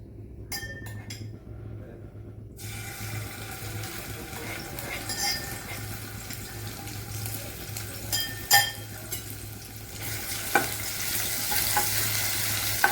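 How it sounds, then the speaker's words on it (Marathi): Ginger-garlic paste sizzles in two or three spoonfuls of hot oil for an egg curry, a steady loud fry with clinks of a utensil against the pan and occasional sharp spatters near the end. "आपलं तेल गरम झालेलं आहे आपण त्यामध्ये अद्रक लसूणची पेस्ट टाकू आता"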